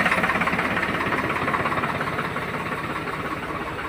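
A tubewell pump engine runs on a farm, chugging in a steady loud rhythmic throb close by, with no voices over it.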